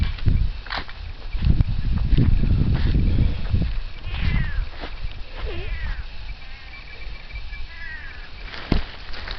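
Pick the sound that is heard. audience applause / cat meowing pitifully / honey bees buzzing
cat meowing pitifully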